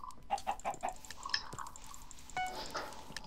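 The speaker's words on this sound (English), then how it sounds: "There's a chicken right here." A chicken in the Minecraft video game clucks in a quick series of short, faint calls, with game sound effects around it and no talking.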